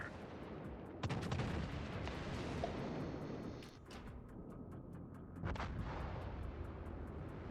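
Repeated booming salvos of naval gunfire in a warship video game, several heavy blasts in succession over a dense rumbling battle backdrop, loud and close with no talk.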